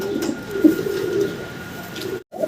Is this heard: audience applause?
no